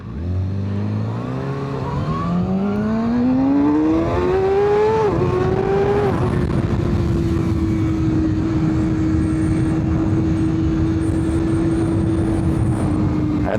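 A Suzuki 8R motorcycle engine revs up loud and close, its pitch climbing steadily through the first seconds before settling into a sustained high, even drone.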